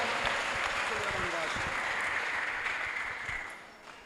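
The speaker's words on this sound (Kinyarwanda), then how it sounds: "mukomere Imana amashyi menshi" A crowd claps steadily, a dense wash of applause that fades slightly toward the end, with voices mixed in.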